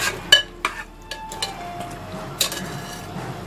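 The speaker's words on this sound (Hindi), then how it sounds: "लगातार चलाते रहेंगे इनको ताकि जले ना।" Mutton pieces being stirred while they fry in a pot for a tinday gosht curry, with a few sharp scraping clinks of the spoon against the pot over a soft, steady sizzle, close and fairly quiet.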